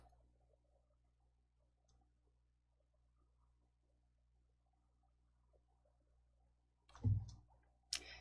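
A computer mouse clicks on a fill tab in word-processing software, with two short, sharp clicks near the end after a long stretch of near silence.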